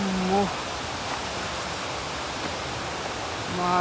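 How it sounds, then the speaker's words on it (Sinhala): The Paradise Ella waterfall on the Dehenakanda Mukkuwatta trail to Sri Pada gives a steady, even rushing roar, with a voice briefly heard at the start and end. "ඔන්න බලන්න ඉතින් මේ සුන්දර පැරඩයිස් ඇල්ල තමයි මේ ඔයාලා දකින්න යන්නේ."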